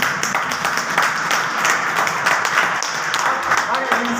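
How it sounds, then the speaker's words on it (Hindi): An audience at a motivational training seminar claps in a dense, continuous patter, fairly loud and close, with individual sharp claps poking through and a voice faintly mixed in. "ताली होती है"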